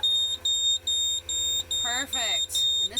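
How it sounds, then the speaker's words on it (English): A boat's high water alarm, its sensor hooked to the bilge pump, sounds a loud steady series of electronic beeps, about three per second, while people talk over the later beeps. "So the high water alarm works."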